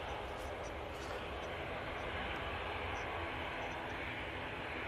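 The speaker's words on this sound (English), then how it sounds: "And there we go, beautiful landing there." A passenger airliner lands at Manchester Airport, a steady broadband roar of engine and wind noise holding level throughout from a moderate distance.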